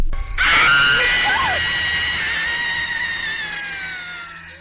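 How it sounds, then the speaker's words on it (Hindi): A woman's loud, sustained high-pitched scream bursts in sharply and holds for several seconds, slowly trailing off, with a low rumble underneath. "तभी एक जोर की चीखने की आवाज गूंजी।"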